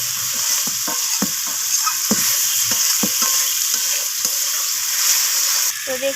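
Spicy bhetki fish curry sizzles loudly in oil while a spatula stirs it, with steady frying hiss and repeated sharp scraping clicks against the pan.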